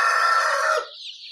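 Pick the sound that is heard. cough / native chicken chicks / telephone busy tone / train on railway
native chicken chicks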